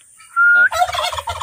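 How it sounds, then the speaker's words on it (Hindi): White and colourful black-and-white turkeys gobble loudly at close range, a rising call followed by a burst of rapid, rattling gobbles from several birds at once. "देखिए सफेद रंग वाला टर्की और ये कलरफुल बिल्कुल एक है ब्लैक कलर का, व्हाइट कलर का"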